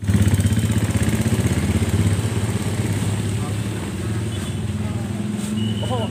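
A motorized pedicab (bentor) idles at Pasar Baru traditional market in Karawang, its engine chugging steadily and close by, with voices of people talking over it.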